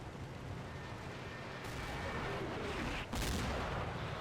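A tank gun fires in the Combat Mission game, a deep booming blast with rumbling noise around it and a sharp crack partway through.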